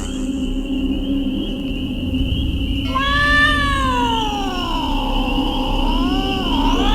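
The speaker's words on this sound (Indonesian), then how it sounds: "Kucing mau kawin tuh kayaknya. Berisik banget sih." A cat yowls loudly in the middle of the night, one long wailing meow that starts about halfway through, bends up and down in pitch and keeps going to the end after a quiet stretch. No voices are heard.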